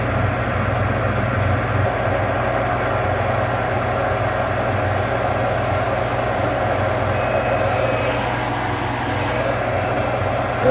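A lit gas furnace burner roars steadily at close range, a continuous broadband rumble with a low hum that holds level throughout without pauses.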